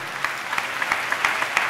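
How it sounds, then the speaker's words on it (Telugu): A church congregation claps in a steady rhythmic beat, roughly three claps per second, moderately loud with a faint murmur underneath. "చప్పట్లు కొడుతూ ఆయనకి స్తోత్రాలు చెప్దాం"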